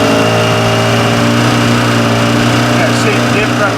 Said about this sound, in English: Randy, flip that throttle again and we'll watch it.